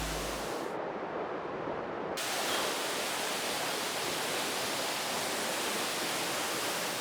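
Bibiyani waterfall near Lerik roars as a dense, steady rush of falling water, loud and unbroken throughout with no voices.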